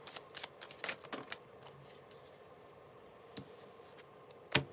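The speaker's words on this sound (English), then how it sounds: "I'm going to shuffle one more time." Tarot cards shuffled by hand during a reading, a run of quick riffling flutters and soft slaps near the start, then quieter handling with a sharp card snap at the end.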